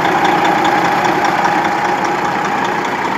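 A Detroit 12.7 diesel engine, freshly swapped into a truck, idles steadily and loudly up close, a continuous chugging drone with no voices over it.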